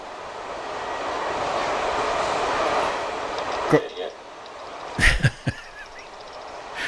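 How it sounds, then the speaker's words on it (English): A train roars through the Sleeps Hill Tunnel at around 80 to 90 km/h, a loud sustained broadband rumble that cuts off abruptly, followed by a few sharp bursts and quieter noise as people exclaim. "If you're on the train these days, it's doing about 80 or 90 through this tunnel."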